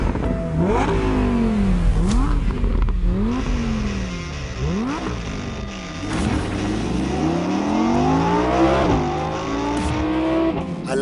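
A second-generation Audi R8 sports car on the move, its engine revving up and down in repeated sweeping pulls through the gears, loud and close, with a brief tire squeal amid the rising and falling roar.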